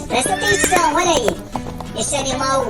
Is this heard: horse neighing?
yes